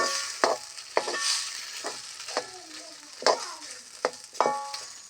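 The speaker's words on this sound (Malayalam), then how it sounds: "കാച്ചിൽ നമ്മളൊന്ന് നെയ്യ് ഒഴിച്ച് കാച്ചിലൊന്ന് വഴറ്റിയെടുക്കുകയാണ് കേട്ടോ." Boiled, mashed lesser yam being sautéed in ghee in a pan for payasam, a soft sizzle punctuated by repeated sharp spatula scrapes and knocks at an uneven rhythm, close and without talk.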